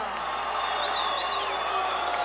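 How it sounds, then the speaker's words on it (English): A professional wrestling arena crowd roars and cheers steadily for Superfly Jimmy Snuka, with whoops and whistles rising over a dense wash of noise while an announcer talks. "Well, this crowd at its feet, tremendously popular Superfly Jimmy Snuka."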